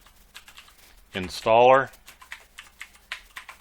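Typing a web address into a browser's location bar on a computer keyboard, with someone speaking briefly, then a short run of light, quiet key clicks.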